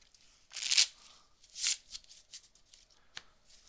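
Playing cards shuffled up close: two strong riffle bursts followed by lighter flicks and taps as the deck is squared.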